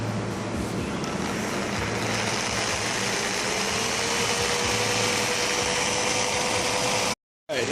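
A drill grinds continuously through a Jeep JK sway bar, a steady whining, rasping noise that runs for several seconds before a sudden brief silence.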